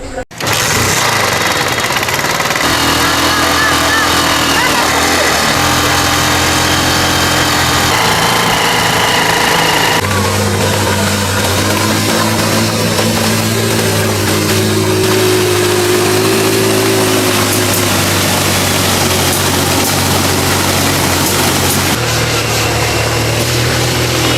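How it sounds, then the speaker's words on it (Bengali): A motorized hobby boat's engine runs on a river, a loud, steady, rattling drone that continues without a break and shifts slightly in pitch and load along the way. "তো চলুন আমরা দেখি মোহাম্মদ আলী কিভাবে তার শখের নৌকাটি চালান"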